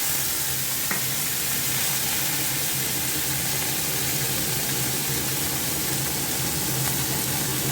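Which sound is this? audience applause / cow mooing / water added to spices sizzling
water added to spices sizzling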